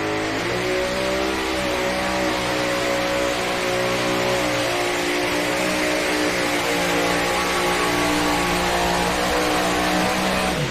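Modified pulling tractor powered by three Hemi engines roars at a DeKalb County Fair NTPA truck and tractor pull, a loud, steady, sustained multi-engine bellow with rising revs throughout a strong run down the track.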